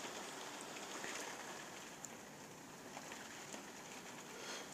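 Heavy storm rain beating steadily on surfaces during a violent thunderstorm in Carpentras, Vaucluse, with south-east gale gusts near 100 km/h, a dense continuous hiss heard from behind a window.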